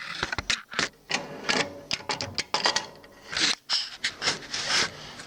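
A fence slides and knocks onto the table of a Laguna 14 Twelve bandsaw, heard as close, intermittent scraping and clunking rubs with brief pauses between strokes.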